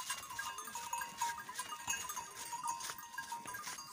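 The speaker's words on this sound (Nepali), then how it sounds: "पुल चढ्यो बाख्रा" Goats crossing a bridge on a Nepali goat farm bleat several times, faint and somewhat distant, over light background noise.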